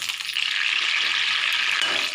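Tomato chutney ingredients being stirred in a pan over heat: a steady, soft sizzle with light scraping, continuous and fairly quiet, with no talking.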